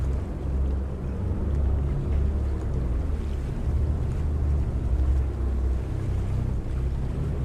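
Boat engines reversing at full power in Farming Simulator 25, heard as a loud, steady low engine rumble with a throbbing drone, joined by washing water and wind noise, with no voices.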